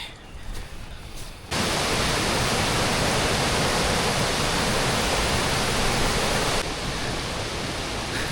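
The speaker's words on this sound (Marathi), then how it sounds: "धबधब्याचा आवाज जवळजवळ जवळ येतो आहे" A waterfall beyond the Anuskura ghat roars nearby, a loud, broad wall of rushing water that surges in after a quieter opening and holds steady before easing slightly near the end.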